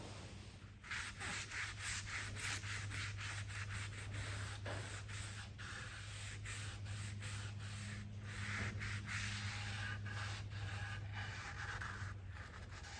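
Minwax tung oil is rubbed into guitar wood with a cloth in a steady, close rhythm of soft scuffing strokes, continuing over a low constant hum.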